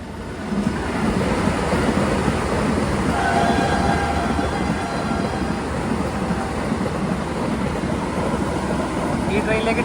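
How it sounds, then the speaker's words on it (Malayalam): A Vande Bharat train overtakes the Amrit Bharat Express, heard as a loud, steady rail rumble and roar with faint tonal whines rising through the constant clatter. "ഇതാ അമൃത് ഭാരത് എക്സ്പ്രസിനെ ഓവർടേക്ക് ചെയ്യുകയാണ്"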